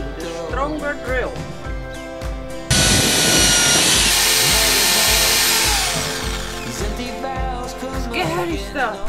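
An electric drill bores through a van's bumper in a short high-pitched whining burst that grinds loudly at close range, with rhythmic knocking and handling noise before and after.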